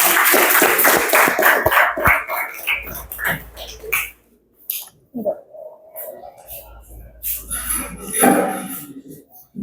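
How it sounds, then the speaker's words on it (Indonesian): A class of students claps after a group presentation, a burst of dense applause up close that fades within a few seconds, followed by voices talking in the room. "Beri aplaus untuk kelompok 2."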